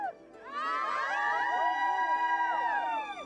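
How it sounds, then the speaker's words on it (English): Women cheer and ululate together in a loud, high, wavering chorus to greet wedding guests, rising after a brief pause and holding steady before trailing off. "Cheering women greet the guests."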